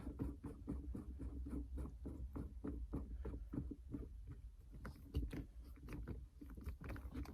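A weighted carbon gear knob being screwed onto its threaded insert makes a close, faint run of quick, evenly spaced ticks and clicks that continues throughout.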